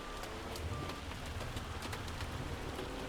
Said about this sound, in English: And man, hear that hail hitting the case.